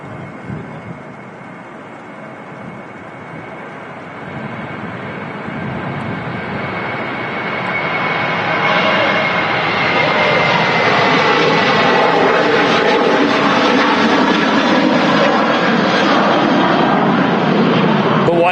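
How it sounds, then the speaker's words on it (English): A KLM airliner on its takeoff roll at Manchester Airport produces a steady jet engine roar that builds in loudness and pitch over many seconds, loud and continuous, with faint voices underneath. "Just on the takeoff roll, yeah."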